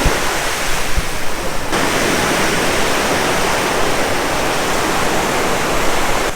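Steady roar of waves and surf washing onto Waikiki Beach in front of the Royal Hawaiian Hotel, a dense, continuous wash of water heard close and loud with no talk.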